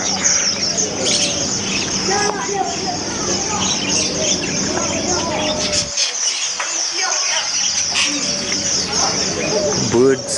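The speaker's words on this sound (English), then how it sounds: "Birds." Birds cooing and chirping in the open-air Souq Waqif market, with pigeon-like coos and tweets layered over steady crowd chatter and nearby voices throughout.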